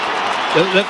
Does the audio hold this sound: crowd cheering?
yes